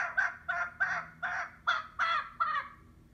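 A chicken on a bus clucks in a rapid run of about seven sharp, squawking calls, loud and close, with no talk over it.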